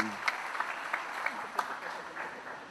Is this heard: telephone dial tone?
no